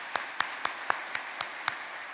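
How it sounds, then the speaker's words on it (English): A few people at a campus staff meeting clap for a staff member, a sparse scattering of about eight separate claps, faint and unhurried, over a quiet room. "if we could all give her a round of applause for Tammy"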